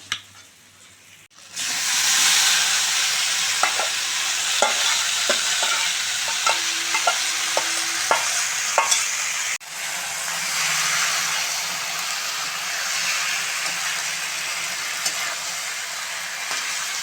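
Marinated duck meat tipped into a pan of onions fried until red, sizzling and frying steadily with stirring and clattering spoon scrapes; a loud, continuous hiss with no talk.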